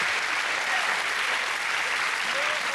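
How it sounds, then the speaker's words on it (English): Steady, dense applause from a studio audience at a boxing-themed television interview, filling the whole moment at an even level with no clear gaps. "I'll give him a round of applause"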